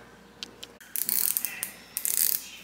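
A screwdriver works a screw loose from the presser bar block of a Pfaff 130 sewing machine, giving close, faint metallic scrapes and a run of quick ratcheting clicks in short bursts.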